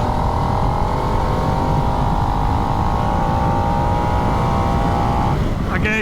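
A 2022 Harley-Davidson Nightster motorcycle engine revs loud and close in a steady high-rpm drone that climbs in pitch, then breaks off sharply near the end as the revs shift.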